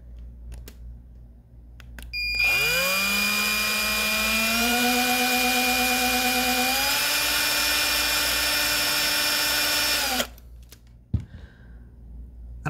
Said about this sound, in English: I don't think these are the right drill bits.